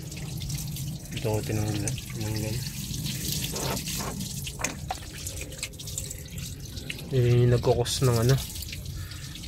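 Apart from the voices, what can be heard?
draining coolant from a clogged car radiator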